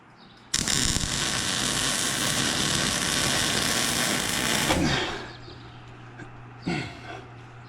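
Welding metal pieces onto a demolition derby car in a shop: a loud, continuous crackling buzz lasting several seconds, then dropping away, followed by a brief second burst.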